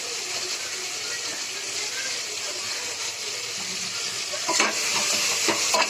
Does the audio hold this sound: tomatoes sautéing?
yes